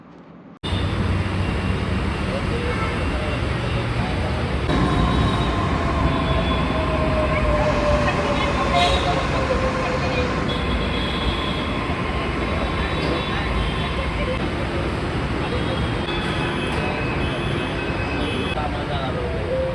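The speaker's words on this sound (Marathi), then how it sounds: "आम्ही मेट्रो स्टेशनला पोहोचलो" A Mumbai metro train's steady rumble and hum rolls on continuously at a close, even level, with faint higher whines drifting over it.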